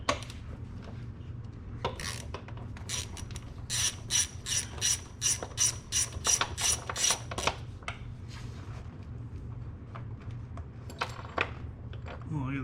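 A ratchet on an extension clicks in quick, rapid bursts while loosening a 10mm bolt during a transmission mount replacement on a 2005 Honda CR-V, with scattered handling clatter before and after.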